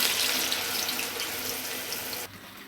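Minapa vada batter drops into hot oil and fries with a bright, dense hiss and sizzle at close range, fairly quiet, then quickly drops off near the end.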